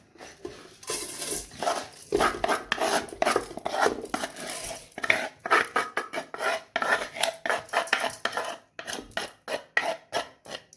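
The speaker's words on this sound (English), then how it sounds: "take the rice and transfer it to the rice cooker" Washed rice is moved into a rice cooker with a busy run of clinks, scrapes and rattling knocks of utensil against pot, close and moderately loud, with brief pauses between bursts.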